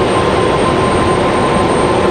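A Southwest Boeing 737-700 jet arriving at night, diverted from Pittsburgh, gives a loud, continuous broadband engine rumble with a thin whine, steady and close for the short span, no talk.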